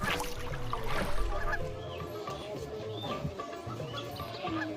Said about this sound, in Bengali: আবার হাঁস চলেছে